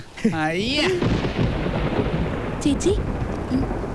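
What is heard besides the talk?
thunder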